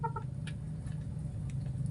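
A few quick clucks from a sick chicken at the start, then quiet low background hum with faint scattered clicks.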